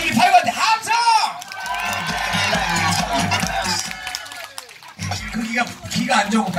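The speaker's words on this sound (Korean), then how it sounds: "나 지금 팔구한테 함성!" A crowd cheers and whoops at a fire show, rising into a loud sustained burst of shouting and cheers, with a voice calling out before and after it.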